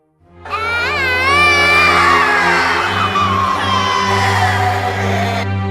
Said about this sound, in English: 3 children are screaming in dying agony from terrible pain.